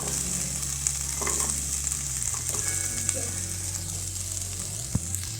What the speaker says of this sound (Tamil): இதை வறுத்துக்கலாம்.